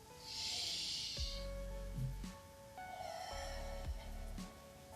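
A slow, steady breath drawn in during a side-bending stretch, heard close and soft over a faint, quiet background with a few light thumps.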